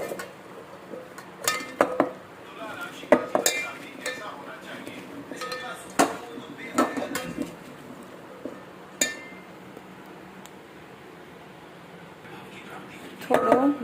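A spoon clinks and scrapes against a bowl as spices are mixed into cluster beans and potatoes, in irregular bursts of clatter separated by quieter stretches, with a voice heard at times.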